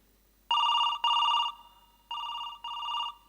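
A telephone rings in two pairs of bright electronic trills, each burst about half a second long, with a short pause between the pairs; no voices.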